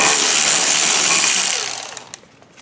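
A power tool whirs loudly on a 9/32 bolt that holds the e-brake cable to the rear trailing arm of a Ford Focus. It runs steadily for about a second and a half, then stutters in short pulses and stops.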